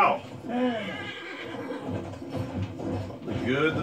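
A horse in a video game neighs in a loud whinny at the start and again near the end, with a player talking over the game sounds in between.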